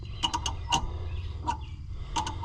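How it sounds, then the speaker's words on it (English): Metallic ratcheting clicks of a wrench turning a fender bolt on a John Deere G flat-top tractor, several short bursts in quick succession with brief pauses, close and moderately loud over low background hum. "Gotta take the wrench off every time."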